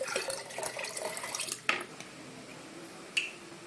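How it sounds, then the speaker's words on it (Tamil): A cow dung mixture is poured into ten litres of water, splashing and trickling softly before a couple of sharp drips and clinks stand out against the quiet, with no one speaking. "அதை 10 லிட்டர் தண்ணியில் ஊற்றிக்கலாம்."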